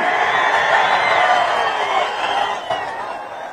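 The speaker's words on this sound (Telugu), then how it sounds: "గట్టిగా చప్పట్లు కూడా చెప్పండి, సహకరిస్తామని." A large political rally crowd cheers and roars at a Chandrababu Naidu speech, a dense, sustained wash of noise that gradually eases off toward the end.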